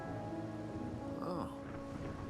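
Steady rain falls in the video game Wuthering Waves, a soft, continuous hiss of drops heard faintly at a distance alongside quiet sustained tones.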